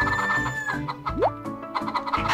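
Chickens cluck and squawk up close in Harvest Moon: Save the Homeland, with short repeated bursts and a rising squawk midway over a light musical background.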